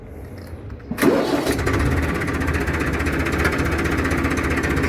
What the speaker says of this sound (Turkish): Bismillah diyorum marşa basıyorum